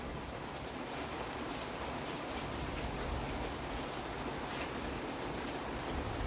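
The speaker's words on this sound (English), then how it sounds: "You may hear some rain and the thunder" Steady rain falls outside a garage, a continuous close hiss of drops hitting surfaces that lasts throughout with no pauses and no voices.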